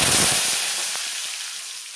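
Whole spices, including cloves and cumin, tempering in hot oil for a chicken and potato curry: a loud, hissing sizzle that spits and crackles sharply at first, then settles into a steady fry.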